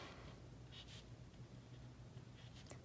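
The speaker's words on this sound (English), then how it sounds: "I'll go ahead and write like in like calligraphy or my type of hand lettering." Tombow brush pen hand lettering on paper, giving faint soft scratches and strokes in short bursts over quiet room hiss, recorded very low in level.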